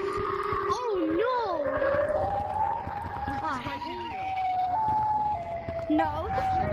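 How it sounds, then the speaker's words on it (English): A siren wails steadily in the video game Gorilla Tag, its tone rising and stepping in pitch for several seconds while players talk excitedly over it. "The siren is still going on."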